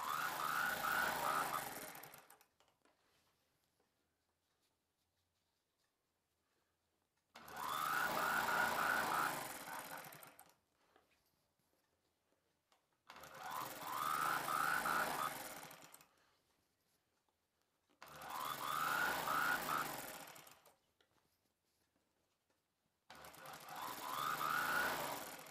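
A sewing machine stitches elastic and cloth together on a palazzo pant in five separate bursts of rapid, even needle clatter, each lasting a few seconds and separated by near silence.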